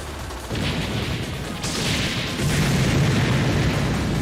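A vehicle blows up in a shmup game on the Nintendo Switch, heard as loud, dense explosion bursts that build and layer over continuous game noise and rumble, with no talking.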